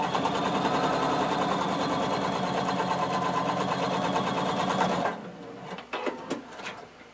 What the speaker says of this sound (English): you're going to sew 3/8 of an inch at the top, just a basting stitch to close this out